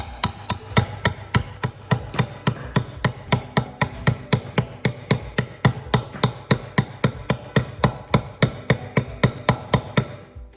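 Steady hammer blows on a John Deere Gator engine, likely an FD620D during a rebuild, ring out in a fast, even rhythm of about two to three sharp metallic strikes per second. The blows are close and loud, with no talk over them.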